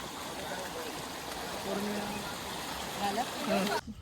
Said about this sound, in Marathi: वाटेमध्ये आम्हाला हा छोटासा ओढा लागतो आणि याच्यातून आता आम्ही वाट काढत जात आहोत